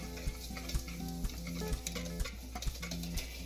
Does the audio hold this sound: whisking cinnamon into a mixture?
yes